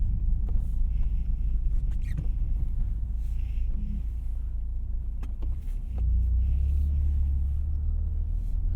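A Toyota GR Corolla drives at about 40 mph on snow-covered roads, heard from inside the cabin as a steady low road rumble with tire and engine drone and a few faint clicks and rattles.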